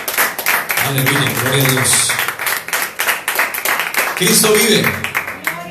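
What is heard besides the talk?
church congregation clapping as an offering of applause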